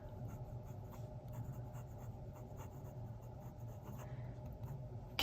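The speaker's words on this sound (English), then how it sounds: "Reverse writing." A DeNobil DN500 fountain pen writes reverse-side on paper, a steady, soft scratchy nib scrape running continuously with faint periodic strokes, close and quiet with no talking.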